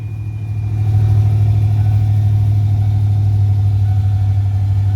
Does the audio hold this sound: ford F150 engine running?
yes